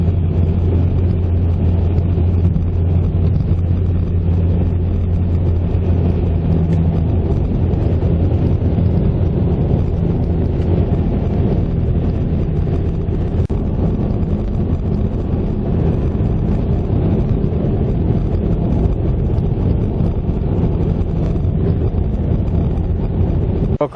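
Steady road roar and wind rush from a car cruising on an open highway near Atlanta with very little traffic, a continuous low rumble that holds level throughout with no talking.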